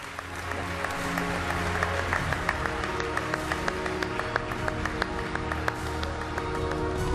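A large audience at a sport awards ceremony in South Africa claps steadily, a continuous wash of applause with scattered sharper claps and a low murmur of music or crowd underneath.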